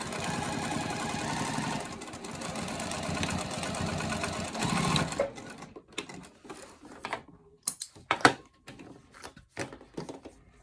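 A sewing machine runs in a steady continuous stitching burst for about five seconds while sewing a snap bag, then gives way to a scattering of short mechanical clicks and taps near the machine.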